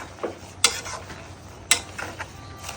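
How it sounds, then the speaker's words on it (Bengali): Leafy greens (shak) cooking in a pan on a home stove: a low sizzle under stirring, broken by two sharp utensil clicks against the pan. "এদিকে আমি এই যে শাক উঠাইয়া দিছি"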